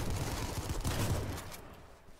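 Players trade gunfire in the H1Z1 battle royale game: a dense spray of shots from a hillside firefight rattles at steady loudness, then fades out toward the end.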